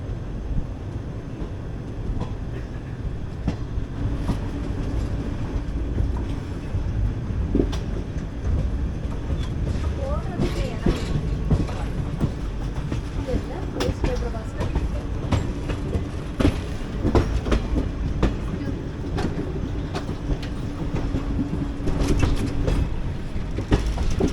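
Madurai-Guruvayur Express diesel train rolling along the rails, heard from on board as a steady rumbling run with repeated clickety-clack wheel beats over joints, continuous and fairly loud with no talk.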